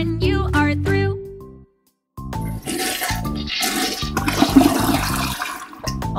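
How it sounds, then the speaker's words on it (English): A toilet flushes in the Sesame Street children's potty-training game Abby & Elmo's Potty Plan. A short tonal jingle plays first, then after a brief silence a loud rushing, gurgling flush fills the rest of the clip. "Flush the potty when you are through."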